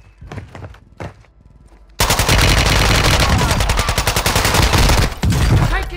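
A few sparse, distant shots give way to loud, relentless automatic gunfire in Call of Duty Warzone 2, rapid bursts rattling near and close for several seconds with no talk over them.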